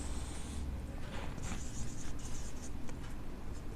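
Pen or pencil scratching across paper while writing out a maths problem, a soft continuous rustle with brief strokes, close by and fairly quiet, no talking.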